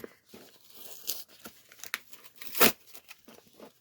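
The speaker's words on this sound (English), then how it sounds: "I might have to rip this one" Cardboard advent calendar door for a Dungeons and Dragons calendar being torn open, a run of close, crisp ripping and crinkling bursts with one loud tear near the end.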